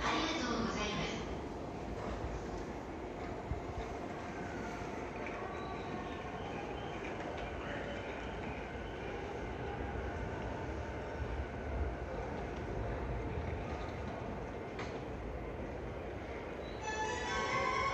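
A JR Yamanote Line train rumbling and clattering at a Tokyo Station platform, steady rail noise throughout with announcements and voices in the background.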